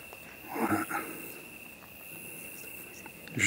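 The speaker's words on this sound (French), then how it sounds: "Juste les bruits des cigales." Cicadas chirp at night in the Charente countryside, a faint, thin, continuous high-pitched whine with a few soft rustles and bumps in the foreground.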